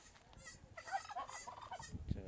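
A turkey gobbles, a rapid rattling burst of throaty calls in the middle of a short clip, fairly quiet and close, with faint background noise.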